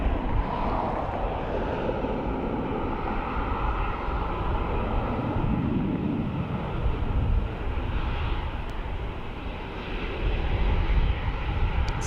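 An Aer Lingus airliner at Dublin Airport roars steadily after landing, a broad, loud engine rumble and rush that holds throughout with no voices over it.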